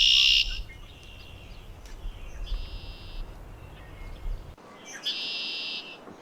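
Repeated red-winged blackbird calls, a harsh buzzing trill and short chirps, ring out in a quiet outdoor setting with faint background hiss.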